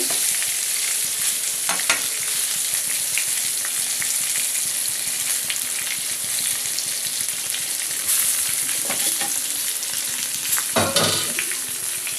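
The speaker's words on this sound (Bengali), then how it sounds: "বেগুনটাকেও ভেজে নেব ভালো করে।" Eggplant frying in a pan for an egg-and-eggplant Bengali dish, a steady loud sizzle running throughout with a few louder bursts of spatter and occasional stirring scrapes.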